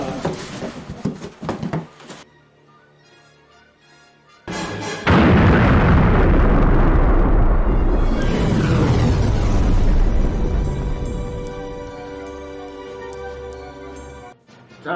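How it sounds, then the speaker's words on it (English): A huge, booming explosion effect from a Star Wars fan film, erupting after a few sharp bursts and roaring loudly for several seconds before decaying into rumble and lingering tones. "That explosion sounded pretty close to me."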